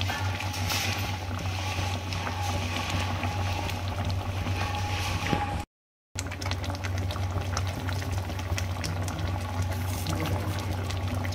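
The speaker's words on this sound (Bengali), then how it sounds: "তো দেখো ডাল একদম হয়ে এসছে, ফুটে গেছে।" Spinach dal of lentils and palak boils in a pot, giving a continuous bubbling simmer with a low steady rumble and a brief break partway through.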